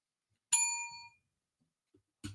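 A single bright bell ding rings out clearly and decays over about half a second, followed by near silence and a faint click at the end.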